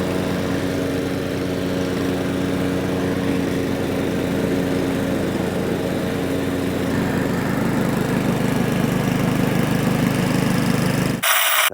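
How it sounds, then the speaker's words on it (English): A PowerSmart 209cc gasoline lawn mower engine drones steadily up close, loud and continuous, cutting off abruptly at the end. "So that lawnmower started right up. It's about as loud as your average lawnmower."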